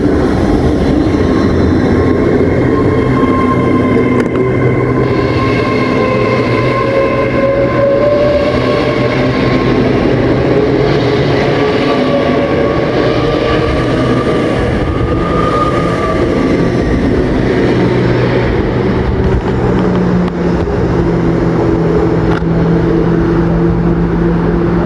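Train 807004 passes through Milton Keynes Central on the West Coast Main Line, a loud, steady rumble and roar with faint wheel clatter and tonal whine lasting the whole stretch, no voices.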